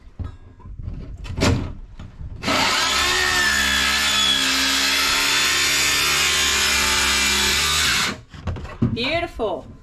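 A power saw cuts through hardwood plywood during a boat rebuild, a loud, sustained whining rasp of about six seconds after a short start, with people talking briefly before and after the cut.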